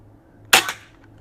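A single rifle shot fired at a target through a night-vision scope cam setup, one sharp loud crack with a short tail, alone against quiet background.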